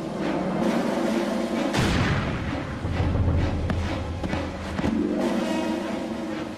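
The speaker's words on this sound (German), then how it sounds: "2000 Menschen werden vor die Tore der Stadt getrieben und von Kanonen zusammengeschossen." Cannon fire in a French Revolution massacre scene: repeated heavy booms and rumbling blasts over a dense, continuous roar, loud and sustained throughout.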